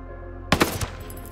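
Light machine gun gunfire in Ghost Recon Breakpoint: a short burst of two or three sharp, loud close shots with a brief ringing tail, after a low steady hum.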